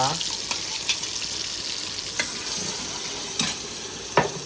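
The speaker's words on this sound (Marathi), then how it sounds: "तर मस्त पैकी फ्राय करून घ्यायचं आहे हिला मसाल्याला." Masala for a chicken recipe frying in a pan, a steady close sizzle with occasional soft clinks and scrapes of stirring spread across it, and no talk.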